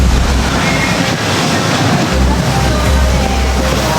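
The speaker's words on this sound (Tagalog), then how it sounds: "biglang lumakas yung ulan at saka lumakas yung hangin" Strong, steady wind and heavy rain roar into the microphone in Pasay with a dense, continuous rush like surf, loud and unbroken throughout.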